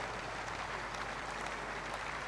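A church congregation claps steadily for the Lord, and the dense clapping from many hands merges into a continuous, even wash of applause.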